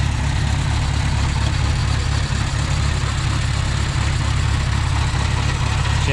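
A 1950 Farmall Cub tractor engine idles, a loud, steady low rumble that holds even and unchanging close by, with no speech.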